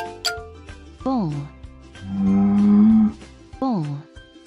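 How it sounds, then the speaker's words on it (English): A bull gives a deep, sustained moo, close and loud, between short bright chimes and sliding plinky tones from a children's animal puzzle. "Bull."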